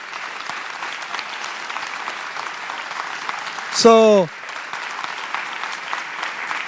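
A town hall audience on rent security and tenant protection claps for a mayor, a steady crowd patter under ongoing talk, with a brief louder burst partway through.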